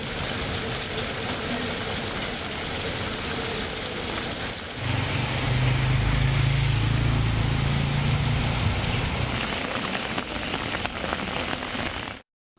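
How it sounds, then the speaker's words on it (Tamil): Heavy rain and strong wind beat down over flooded roads in the Tiruppattur and Manamadurai areas of Sivaganga district, Tamil Nadu, a loud dense roar that grows heavier midway, with a low vehicle-like rumble, then cuts off abruptly. "பலத்த காற்றுடன் பெய்த கனமழையால் சாலைகளில் தண்ணீர்"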